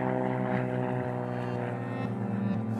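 A propeller mail plane operating out of Alice Springs runs at a remote airfield, its engine a steady, loud droning hum with a dense harmonic buzz that holds unchanged throughout, with no voices.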